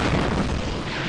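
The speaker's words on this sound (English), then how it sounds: "A Chaturga shotgun." A Chaturga shotgun fires in the video game Eternal Darkness, a single loud, dense boom that fills the whole short moment with a rough, sustained blast.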